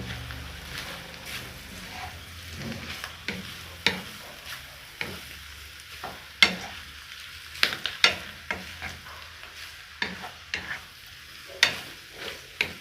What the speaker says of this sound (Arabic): هشوح فيها يا حبايبي كده لغايه ما احس ان الفشه بتاعتنا اتشوحت شويه في البصله